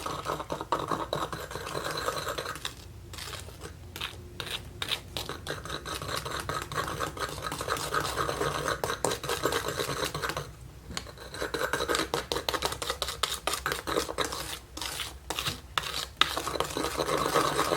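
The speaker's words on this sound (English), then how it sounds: "No, I'm whisking it for sure." A hair bleach mixture is whisked in a bowl, giving a continuous close scraping and stirring with short rhythmic strokes and brief pauses, no voices.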